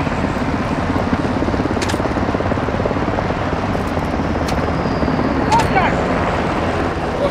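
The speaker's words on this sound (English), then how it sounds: "Nikolai, welcome with the helo." A helicopter in the Call of Duty: Modern Warfare II campaign gives a continuous rotor thrum and roar that fills the scene, with battlefield voices faintly underneath.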